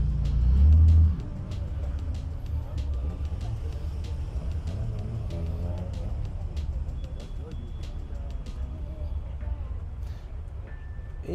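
A BMW Z1 roadster pulls in at a classic car gathering, its engine a steady low rumble that swells briefly at the start, with surrounding talk over the noise.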